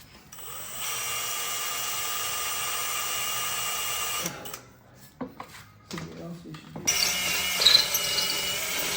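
A drill with cobalt bits bores into a Cadillac XLR exhaust, a loud sustained high whine for several seconds, then stops and gives way to clanks, rattles and brief bursts of drilling.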